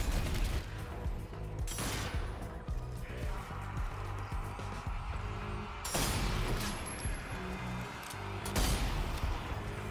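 Gunfire and explosive shots in the zombie shooter Zombie Army 4, a busy mix of loud bursts and heavy booms, with several strong blasts standing out against constant game noise.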